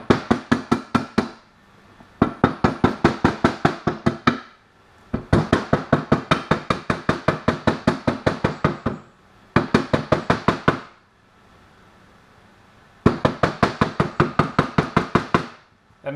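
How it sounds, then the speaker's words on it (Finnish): Repeated knocking taps on parts while assembling a Minarelli AM6 moped engine, delivered in rapid rhythmic bursts of sharp, close, loud strikes separated by short pauses. "Sitten voitaisiin vähän vielä koputtaa sitä."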